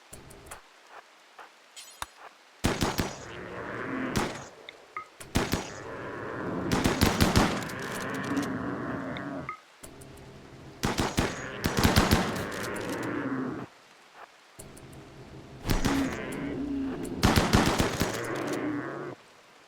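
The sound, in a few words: gunfire in RimWorld video game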